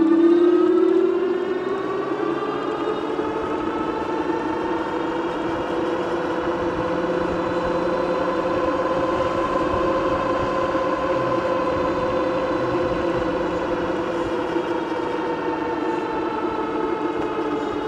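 Whining electric motor of a Tonnerrey T8 dual-motor e-bike running on a single motor under throttle up a hill, a steady rising-and-settling tonal hum with harmonic layers over wind rush, close and continuous for the whole stretch.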